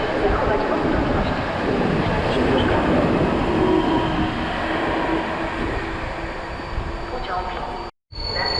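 A train rolls into a platform at Warszawa Zachodnia station, a steady loud rumble of wheels and cars running throughout, with a brief dropout near the end.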